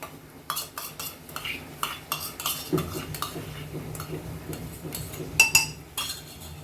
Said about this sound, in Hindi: और इसको कंटिन्यू हम फास्ट गैस पे घुमाएंगे।